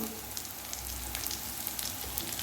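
Onions frying in a hot pan with ground spices just added, a steady close sizzle with fine crackling pops and no voices.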